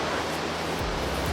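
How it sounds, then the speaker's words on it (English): Raging river below, a dense unbroken rush of churning water, loud and steady with a faint low rumble underneath. "And there's a raging river down here too."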